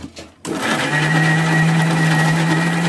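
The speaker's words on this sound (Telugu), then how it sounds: "ఇప్పుడైతే మిక్సీ ఆన్ చేసుకొని మొత్తం గ్రైండ్ చేసుకోవాలి" A mixer grinder blending marinade ingredients starts up after a brief pause and runs as a loud, steady high-pitched whine with a constant motor hum, close by.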